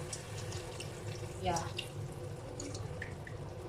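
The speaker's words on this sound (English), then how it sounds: "Water, slowly." Water is poured slowly into a cooking pot of Philippine-style chicken adobo, a soft trickle and splash that peaks briefly midway over a low kitchen background, with a short spoken reply.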